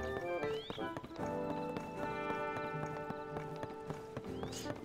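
Horse hooves clip-clopping in The Legend of Zelda: Tears of the Kingdom, with whinnies and a rhythmic trot set against a tonal game soundtrack, moderately loud.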